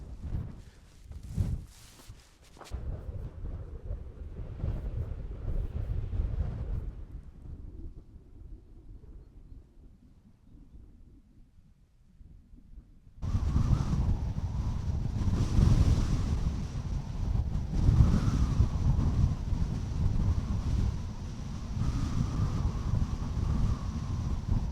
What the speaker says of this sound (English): Insanely windy up here.